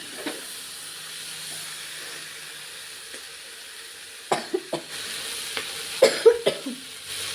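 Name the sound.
coughing while cooking khichdi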